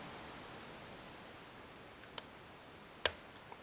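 A lock pick works the pins of an ISEO F5 euro cylinder lock with spool pins, giving two faint, sharp clicks a second apart, followed by a few tinier ticks over a quiet hiss.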